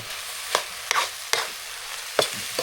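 Stir-frying in a pan, with a low background sizzle broken by four sharp spatula scrapes against the metal at uneven intervals, close and clear, with no voices.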